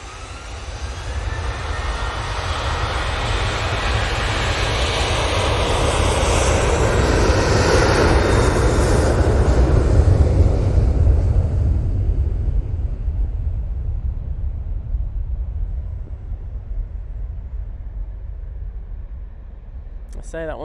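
A Ryanair airliner takes off from Manchester Airport bound for Alicante, its jet engines a powerful low roar with broad hiss that swells to a peak mid-way and then fades into a distant rumble.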